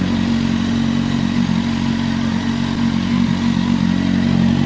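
A 2026 CF Moto 750 SRS motorcycle engine runs close by with a steady, rumbling drone that holds an even level throughout, without clear rev peaks.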